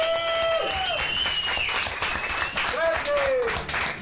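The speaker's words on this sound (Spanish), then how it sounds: "un aplauso para Johnny Obrero, que está cumpliendo 50 años en el ambiente artístico" Audience applause at a comedy show, bursts of clapping mixed with a speaking voice and sliding, whistle-like tones.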